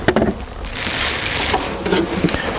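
Honeybees from a package buzz and hum around a hive as the queen cage and wooden bars are set in place, with a close, noisy drone swelling and easing and a few soft knocks.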